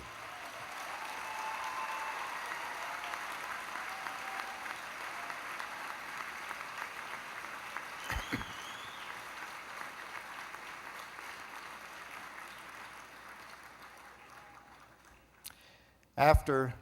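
A college commencement crowd at Carthage gives long, steady applause to families and friends, a broad even wash of clapping that slowly thins out, followed by a few close knocks near the end.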